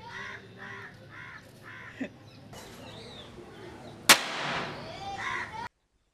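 A single sharp, loud bang from a hammer striking a small firecracker, followed by a brief noisy decay; faint rhythmic chirps come earlier.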